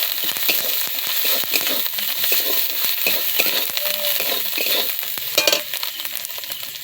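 Chopped cabbage fries in a hot pan with a steady, loud sizzle, broken by frequent scraping clicks from a spatula stirring it around, all close and continuous without talk.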